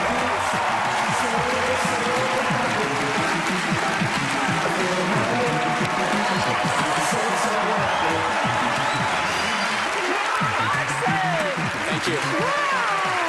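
Audience applause with cheering from a television studio crowd after a magician's app-based trick, a dense, steady roar of clapping that fills the whole stretch at full loudness.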